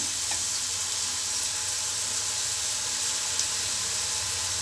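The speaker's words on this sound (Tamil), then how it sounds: "இப்போ நம்ம பூந்தி ஊற்றி பார்க்கலாம் எப்படி வருதுன்னு" Boondi batter drops into hot oil for bakery-style laddu, giving a steady, close, dense sizzle and hiss that continues evenly without any voices.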